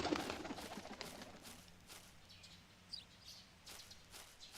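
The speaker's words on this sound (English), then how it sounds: "There's a bird." A pigeon-like bird coos in the video game Cineris Somnia, soft low calls over a faint ambient background with a few light footstep-like taps.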